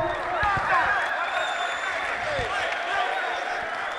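A crowd at a rap battle applauds and cheers for the rapper, a steady wash of clapping with scattered shouts that stays moderately loud throughout.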